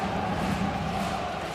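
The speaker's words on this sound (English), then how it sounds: "Crowd coming alive here, cheering on the action" A crowd cheers at an ice hockey game between HC Dynamo Pardubice and Straubing Tigers at the Spengler Cup in Davos, a steady, distant roar filling the arena.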